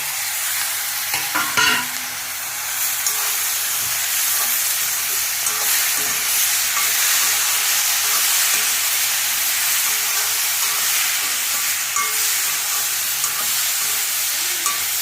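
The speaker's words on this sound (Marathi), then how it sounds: "त्याचं पाणी सुटतं, 1-2 मिनिटातच परतून घ्यायचं." Chopped tomatoes sauté in a pan while a dosa is being made, giving a steady, close sizzle with soft stirring scrapes throughout and a few louder clacks near the start.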